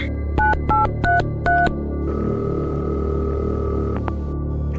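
A telephone being dialed, with four short beeping keypad tones followed by a steady ringing tone over a constant low hum, clear and close with no voices.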